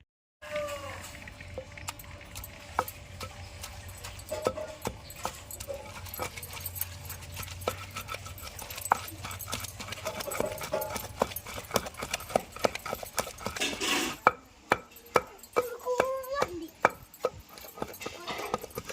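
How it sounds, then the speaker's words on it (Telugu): Boiled gongura leaves pounded into spice powder by hand, with repeated dull thuds that grow sharper and more evenly spaced toward the end, heard close up over a low background hum and some faint voices. "మనం ముందుగా ఉడకబెట్టుకున్న గోంగూరని అయితే వేసుకొని మిక్స్ అయ్యేలాగా దంచుకోవాలి"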